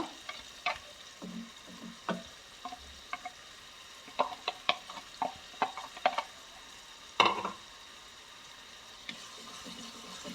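Chopped onion and green chilli sautéing in oil, a soft low sizzle punctuated by intermittent spatula scrapes and clinks against the pan, close by with no talk.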